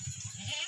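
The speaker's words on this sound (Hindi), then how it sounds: "ये राजनपुरी बकरा है माशाल्लाह जी।" A Rajanpuri goat gives a short, near bleat with a quick pulsing wavering quality, lasting under a second.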